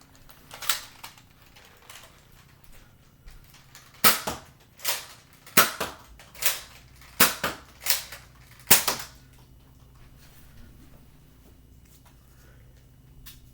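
Toy blasters, including the Nerf N-Strike Elite Jolt and NanoFire, fire darts in a run of about eight sharp, snappy pops, loud and close, with quiet pauses between them.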